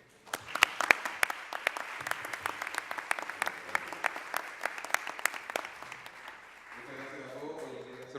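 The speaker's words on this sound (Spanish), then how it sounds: "les pido un aplauso para ellos" An audience at a sculpture colloquium applauds the panelists with sharp, distinct claps that rise quickly, hold steadily and then thin out, leaving quiet murmuring and a voice beginning at the end.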